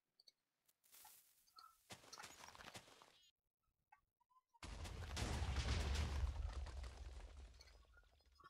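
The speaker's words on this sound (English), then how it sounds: "That's a lot of explosions." Explosions in the Minecraft Tekkit video game, scattered sharp bursts followed by a loud, rumbling, sustained blast with heavy low end, fairly loud and close.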